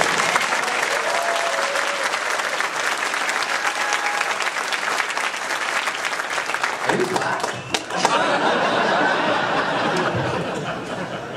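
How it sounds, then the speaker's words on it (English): Convention panel audience at a sci-fi expo breaking into loud, continuous applause mixed with scattered chuckles and faint voices, the clapping briefly thinning midway before swelling again. "please give them another round of applause."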